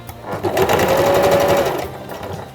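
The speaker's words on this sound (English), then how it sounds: "we will be sewing on the curve, 3/8 of an inch from the edge" A sewing machine stitches a curved bralette seam 3/8 inch from the edge, running steadily for about a second and a half with a short backstitch start, loud and close, then winding down.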